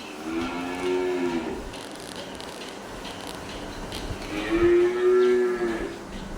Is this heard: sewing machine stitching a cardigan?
no